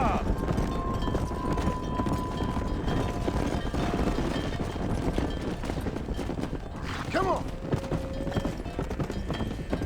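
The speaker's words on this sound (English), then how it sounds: "Bloody horses in the mix now." Horses' hooves clip-clop in a steady run through the Red Dead Redemption game world, continuous and fairly close, with wind noise and someone talking over them.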